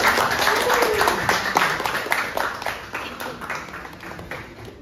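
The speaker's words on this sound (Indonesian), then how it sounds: "Tepuk tangan dulu untuk Razi." Steady clapping from a group in a classroom teaching session, dense and continuous, gradually tapering off over a few seconds.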